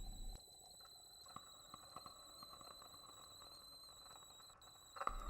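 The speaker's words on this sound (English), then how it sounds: "The sound of a screaming kettle pierces the silence." A kettle whistles with a piercing, steady high-pitched tone in a kitchen scene of a ghost-cleaning anime video game, sustained throughout at low volume over faint background ambience.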